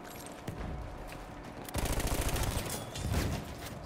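Battlefield 1 gunfire starts with a single sharp shot, then comes a rapid close burst of automatic fire and a second shorter volley, over faint battlefield ambience.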